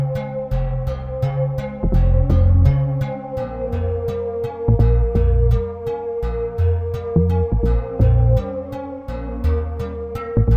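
Synth bass line from the Diva plug-in, deep and prominent, under a rhythmic pattern of repeated plucked notes and a sustained tone, looping steadily and loud throughout.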